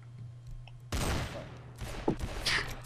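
Gunfire in the video game Garry's Mod DarkRP: after a quiet start with a low steady hum, a loud burst of rapid shots erupts and continues as a noisy fusillade with a few sharper cracks near the end.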